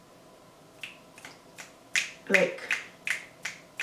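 Fingers snap repeatedly, about eight sharp, close clicks in an uneven rhythm that grows louder toward the middle, with a brief spoken word among them.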